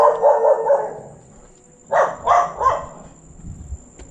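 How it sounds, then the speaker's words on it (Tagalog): A dog barks a few times, a quick run of barks first, then after a pause three sharp barks in close succession, moderately near. "Para hindi tayo tinatawlan ng mga aso."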